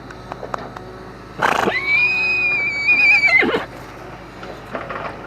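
A 12-year-old mare gives one loud, high whinny of about two seconds, with a few soft hoof thumps before and after it.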